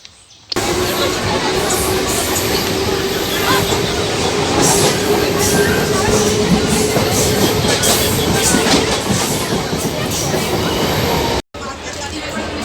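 A passenger train runs at Ranaghat with loud, continuous rumble and rattling wheels, steady for about eleven seconds before cutting off abruptly; a crowded platform setting.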